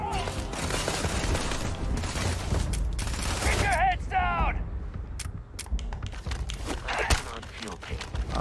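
Gunfire from the video game Starfield: dense bursts of rapid shots and sharp metallic impacts, with footstep-like clatter, running steadily under near, continuous speech.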